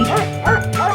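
A toy farm dog barks in a children's animal-toy play set, three quick electronic bow-wow yips in a steady rhythm, close and loud with no talking.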